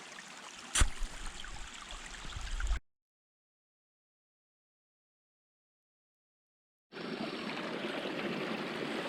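Creek water flows steadily through a Tennessee forest, a constant broadband rush that cuts out to silence midway and then resumes at the same level.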